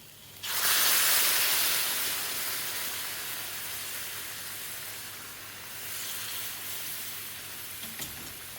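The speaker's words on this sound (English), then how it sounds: "Now I'm going to add the base gravy." A loud burst of sizzling as base gravy hits a hot pan of chicken, boiled potato and spices for a Bangladeshi chicken curry, a hissing roar that slowly settles into a steady simmering fizz.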